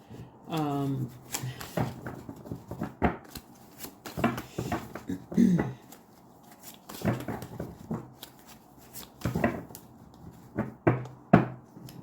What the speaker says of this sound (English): Y'all see me shuffling the cards.